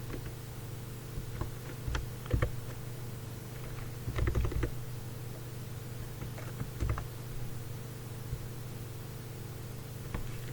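Typing on a computer keyboard while entering an Excel formula: sparse, quiet key taps and a few short bursts of clicks against a steady low hum, with no voice.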